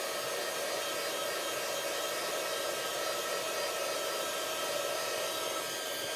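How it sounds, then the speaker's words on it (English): A heat gun melts embossing powder on a stamped image from underneath, producing a steady, close, unbroken blowing whoosh with a fan whine and no talking. "it puts a barrier between the heat gun and the air that comes out of it and the stamped image"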